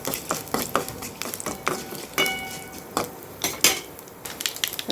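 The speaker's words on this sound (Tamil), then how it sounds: "இப்போ இதில் கருவேப்பிலை சேர்த்துக்கலாம். இப்போ நல்லா பொரியணும்." Mustard seeds and curry leaves spluttering in hot oil while a chutney is made, with a run of sharp crackles and pops close by and a faint steady hiss beneath, no voices.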